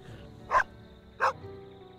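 A dog barks twice in the video game Copycat, two short, loud yaps spaced well apart over a low background hum.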